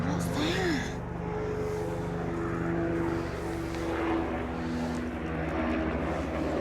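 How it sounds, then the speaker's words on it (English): A low helicopter drone hums steadily overhead at Sherwood Pines forest in winter, with voices speaking over it throughout. "You seen the helicopter,"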